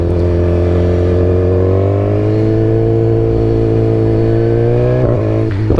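A BMW S 1000 XR motorcycle engine holds a loud, steady high-revving drone close by, its pitch climbing gently and then wavering near the end as it accelerates, with no voices over it.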